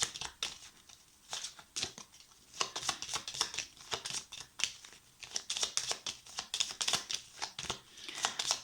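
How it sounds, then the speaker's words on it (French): Tarot cards are shuffled by hand in quick riffling bursts, a crisp, close flutter of papery slaps repeating in uneven runs with short pauses between. "Je brasse, ça saute pas, je m'arrête et je prends la première carte du dessus."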